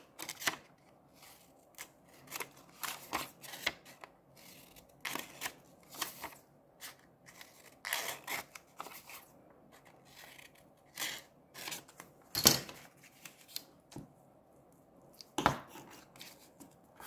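Scissors snipping through a sheet of paper while making a small handmade scrapbook booklet, with a scattering of short crisp cuts spaced irregularly, close and fairly quiet, no talking.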